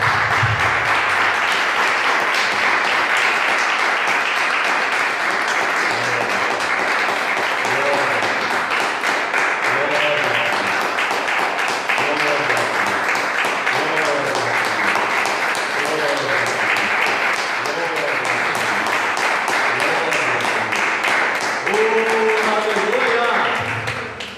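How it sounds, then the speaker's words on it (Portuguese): A church congregation applauds steadily and loudly for Jesus during a Pentecostal service, a dense wash of clapping lasting over twenty seconds with voices singing or calling out beneath it. "Vamos aplaudir bem forte a Jesus."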